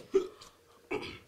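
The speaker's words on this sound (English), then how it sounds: "I got hiccups." Two short hiccups about three-quarters of a second apart, close and fairly soft, with no talking over them.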